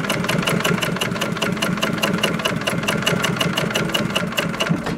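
An upholstery sewing machine stitches car upholstery for a 1990 Porsche 964 911 in a workshop, a loud, close, rapid even rhythm of needle strikes over a steady motor hum, with no talking.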